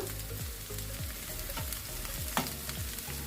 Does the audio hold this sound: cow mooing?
no